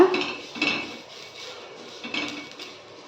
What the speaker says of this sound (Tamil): ஆனியன் எடுத்துகிட்டு அதில் வந்து ஆயில் டிப் பண்ணி இப்படி வந்து தேய்ச்சிக்கோங்க